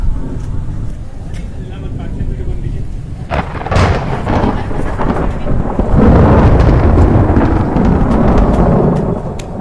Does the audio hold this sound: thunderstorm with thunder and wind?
yes